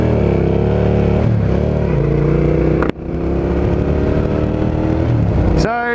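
A Suzuki SV650 motorcycle engine heard while riding, a loud steady drone that holds and shifts pitch, dips briefly as if changing gear, then picks back up, with wind rush throughout.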